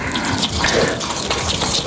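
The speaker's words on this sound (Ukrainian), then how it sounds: "Зволожуємо, не лімо одразу якусь дурну кількість води" Water runs steadily from a tap to moisten fabric before brushing on epoxy resin, a loud, continuous close splashing rush with no talk.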